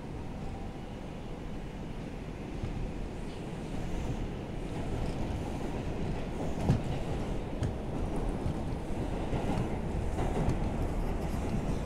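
An R142 car on the Bronx-bound 2 Express subway train rumbles steadily along the tracks, a loud, continuous low roar with faint rattling and clicking throughout.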